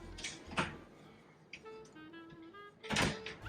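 Drawers in a deluxe hotel room in Bangkok are opened and shut, giving a few soft wooden thumps and slides, with a louder knock near the end in a quiet room.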